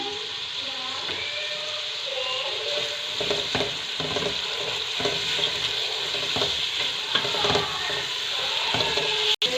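Tomatoes fry in a hot pan for a restaurant-style beef karahi, giving a steady close sizzle with repeated scraping and stirring strokes throughout.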